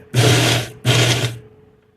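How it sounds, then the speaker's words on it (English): A blender purees thick hot sauce paste in two short, close, loud whirring pulses, each about half a second, separated by a brief pause. "I'll blend it again. I want to puree this as fine as I can get it."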